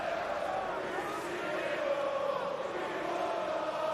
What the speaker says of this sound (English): Most of the noise is from the visiting supporters.